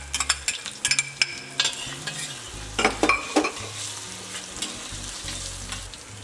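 Chopped ginger and garlic dropped into very hot grapeseed oil in a pot, loud close sizzling with clustered scraping stirs and clanks, then a steadier fry, nobody talking.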